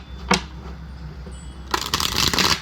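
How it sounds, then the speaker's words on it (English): A single tap, a short pause, then a brisk close-up riffle of cards shuffling that runs to the end, with no one speaking. "Alright, one more shuffle"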